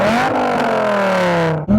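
A Dodge Viper engine held at high revs, a loud, close, steady roar slowly falling in pitch before a quick dip and another sharp blip of the throttle.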